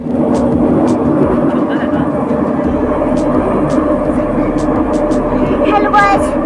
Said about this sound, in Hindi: आज अभी हम मेट्रो में बैठे हुए हैं और मैं बाहर का नजारा देख रहा हूँ।